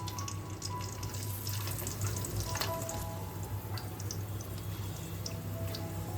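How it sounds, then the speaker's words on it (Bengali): Cashews and raisins frying in hot ghee mixed with oil give a continuous close, soft sizzle and crackle with scattered small pops, steady throughout and free of talk. "তেল সহ ঘিটা আমাদের গরম হয়ে গেছে, তাতে আমি কাজু আর কিশমিশটাকে ভেজে নিচ্ছি"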